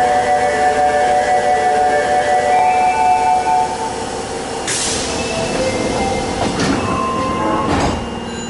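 A refurbished Osaka Municipal Subway Tanimachi Line 22 series train stands at Tenjimbashisuji 6-chome station. A loud humming, whining motor tone gives way to sharp door thuds and clunks near the end, with no one speaking.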